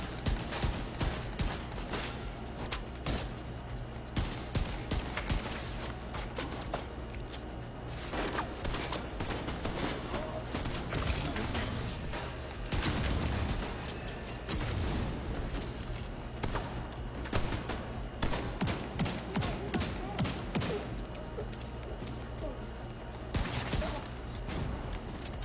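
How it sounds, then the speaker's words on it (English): Sniper turrets firing in a video game, with a dense, loud barrage of rapid, overlapping shots and impacts continuing throughout with no pauses. "I hate their sniper turrets. They're really strong in here."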